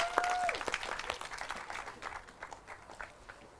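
Scattered applause from an audience at Hikerfest, an outdoor hiker gathering, starts fairly close, thins to uneven individual claps and gradually fades.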